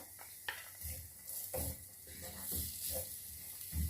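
Onions sautéing in a tablespoon of oil in a pan for chicken cutlets, a soft steady sizzle broken by several scraping stirs and light clinks, close and fairly quiet with no talk.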